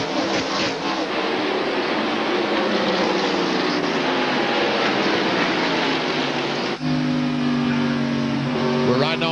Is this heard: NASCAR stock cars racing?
yes